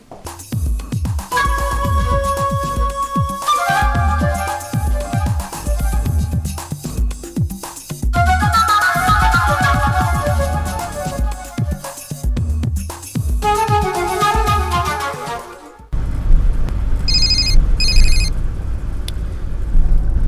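A telephone rings repeatedly in rhythmic bursts, loud and close, over a low background rumble, with a brief change in tone near the end.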